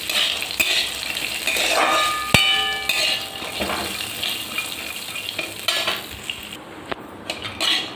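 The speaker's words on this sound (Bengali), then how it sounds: "ওগুলোকে হালকা একটু ভেজে নেব।" Cashew nuts are lightly fried in a pan while making carrot halwa: a steady sizzle with stirring and a few sharp metal clinks of a spoon against the pan.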